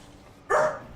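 A puppy gives a single short, sharp yip-like bark close to the microphone after a quiet moment.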